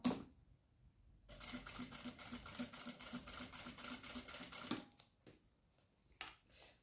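A domestic sewing machine topstitches fabric, turning at a corner partway through: a close, steady mechanical whirr of rapid needle strokes for a few seconds, then scattered stops and short bursts.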